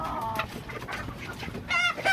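A Gilmore gamefowl rooster gives a few short clucks up close, with a brief, sharper call near the end over quiet farmyard background.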